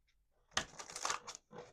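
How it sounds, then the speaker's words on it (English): Card decks being shuffled, a quick soft riffle of cards close by, a brief burst of papery flapping and rattling lasting about a second, fairly faint with no talking. "I just want to get all of our decks shuffled and set and ready."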